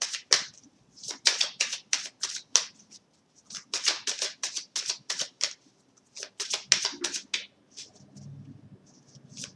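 Oracle cards being shuffled and drawn during a tarot-style reading, a string of crisp papery riffles and flicks in uneven clusters, close and fairly quiet, with no talking.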